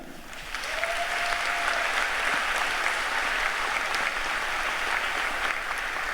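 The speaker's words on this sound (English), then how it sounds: "Let's give a round of applause to them." A large audience at a high school commencement ceremony applauds, the clapping swelling in after a quiet half second and holding as a steady, loud roar of many hands to the end.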